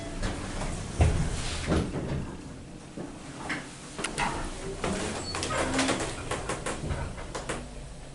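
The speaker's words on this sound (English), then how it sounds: "Door close button works." A Mowrey hydraulic elevator door closes in a hotel, making a rumbling slide with clunks and bumps over several seconds and a firm thud near the start, heard close up.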